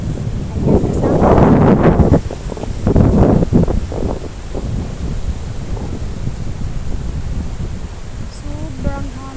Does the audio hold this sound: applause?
no